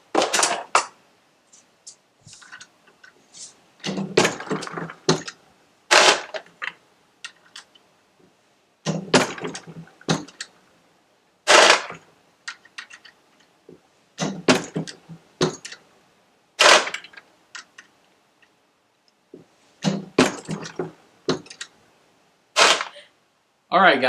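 An RCBS Rock Chucker single-stage press crimps reloaded cartridges in a series of sharp metallic clacks and clunks, repeated in irregular clusters with short quiet gaps between strokes, close and distinct.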